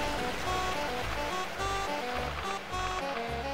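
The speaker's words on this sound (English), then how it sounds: "Oh, through the waterfall." Waterfall in the Pirate Doom video game gives a steady, moderately faint wash of rushing, splashing water that holds at an even level throughout.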